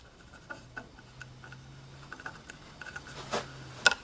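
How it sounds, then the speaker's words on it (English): Faint scratchy strokes of a pencil sliding along a straight edge on a woodturning workpiece, with a few light taps and a small click near the end, quiet throughout. "we'll draw a pencil line"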